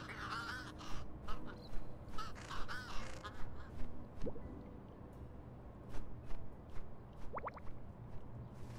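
A crow in the cat adventure game Little Kitty, Big City caws repeatedly in rough, rhythmic bursts, fairly close and steady throughout, with a few soft squishy game effects mixed in.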